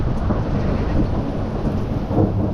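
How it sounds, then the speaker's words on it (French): A moderate thunderstorm passes over Liège in March, bringing a heavy rain shower: a loud, continuous downpour with deep rumbling thunder close by, with no voices. "C'est une belle averse de ça ici."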